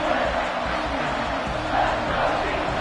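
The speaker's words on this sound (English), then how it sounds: "This Auburn crowd trying to conjure up a little magic here on third down" Auburn football crowd roaring on third down in a packed stadium, a steady, loud wall of cheering and shouting that swells slightly without letup.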